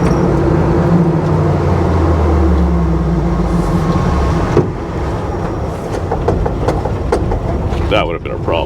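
A 1956 Chevy truck engine fitted with a Predator carburetor racing on a stuck throttle, a loud steady roar that holds high then drops in pitch as it settles, with rattling clicks near the end.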